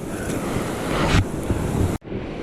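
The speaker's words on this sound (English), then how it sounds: "I got that fast white water there, fast white water there" Fast white water rushing through a river riffle on the McCloud River in Shasta-Trinity National Forest, a loud steady roar with a wind-buffeted swell before a brief cut near the end.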